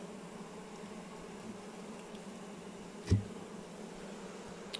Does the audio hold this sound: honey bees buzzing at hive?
yes